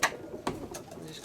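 Roller pigeon cocks coo softly inside a loft box, with a few close low coos and scattered wing or body rustles amid quiet background noise.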